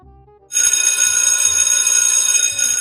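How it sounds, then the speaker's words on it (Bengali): A cartoon telephone starts ringing after a short quiet moment, a loud continuous electronic trill that keeps going steadily and close up, with no talk over it. "আজকে খুব ভালো টাইমে ফোন এসে তো।"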